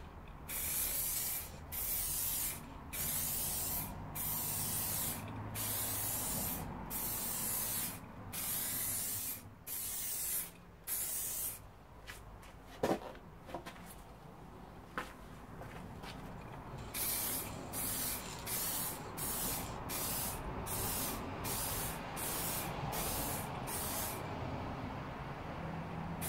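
Spray paint hisses in repeated short bursts over a motorcycle fuel tank, each blast separated by brief pauses, close and steady throughout.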